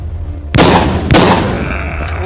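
Gunfire in the zombie video game The Walking Zombie 2: two loud, close shots about half a second apart, each followed by a short decaying rumble, then a fainter third report.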